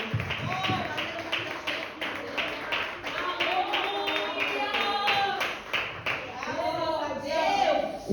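A church congregation at a family worship service claps in a steady rhythm, moderately faint, while voices sing and speak over it throughout.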